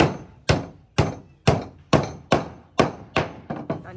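Nine evenly spaced hammer blows ring out up close, about two per second, each a sharp loud strike with a short fading ring, as a family builds a small hut.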